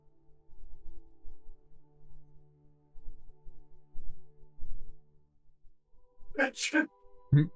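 A single sneeze from a person in a tabletop role-playing game session, loud and close, bursting out near the end after a stretch of quiet talk and low murmuring.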